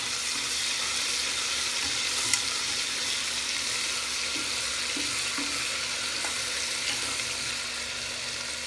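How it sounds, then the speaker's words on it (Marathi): Ginger, garlic and green chilli paste frying in hot oil for a Maharashtrian brinjal and potato dish, a steady close sizzle and hiss with a few faint clinks, no voices. "आपण यात 1 टेबलस्पून आलं, लसूण, हिरवी मिरचीचं वाटण टाकत आहोत आणि ते व्यवस्थित मिक्स करून घेणार आहोत"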